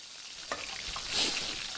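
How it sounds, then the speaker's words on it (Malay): Fish roe from freshly caught river fish fries in a pan in a home kitchen in an Upin & Ipin animated episode, giving a soft, steady sizzle with light crackles and stirring, heard alone and fairly quiet. "Apa yang kau goreng tu? Telur ikan."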